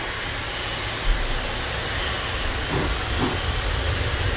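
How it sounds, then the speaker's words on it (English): A jet airliner takes off from runway 23 left at Manchester Airport, its engines a steady, distant, broadband roar and hiss that holds for several seconds. "G90's power plants about to thrust this wonderful aircraft from 2-3 left."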